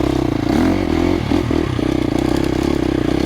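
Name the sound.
KTM 350XCF dirt bike engine riding uphill in first gear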